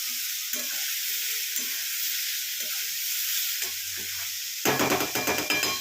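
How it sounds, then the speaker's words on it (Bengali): Beetroot and carrot curry being sautéd in a pan, a constant hissing sizzle with occasional scraping stirs, then a louder run of rapid clattering spatula strokes near the end, close by. "এভাবে কষিয়ে নিয়ে আমি এটাকে ঢাকা দিয়ে দেবো"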